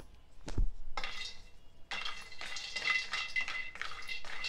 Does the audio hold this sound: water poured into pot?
no